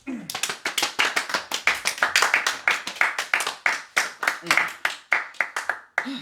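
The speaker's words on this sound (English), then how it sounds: "Give yourselves a round of applause." A small seminar audience at an acting workshop claps steadily and briskly for about six seconds, with dense overlapping hand claps close by and a few voices calling out over the applause.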